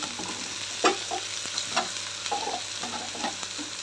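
Bottle gourd pieces stirred in a hot pan, a steady low sizzle with several soft scraping and clinking strokes of a spoon at irregular intervals, close and moderately quiet.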